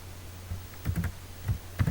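Keys tapped on a computer keyboard while entering text in an Excel spreadsheet, a few soft clicks in short clusters, quiet and close with a steady low hum underneath.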